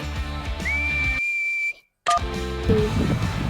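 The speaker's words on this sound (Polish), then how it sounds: "A co to jest gwizdanie? Ściągasz wargi razem i dmuchasz." A person whistles a single sustained, steady tone over background game music, which cuts out briefly before a short second whistle note returns with the music.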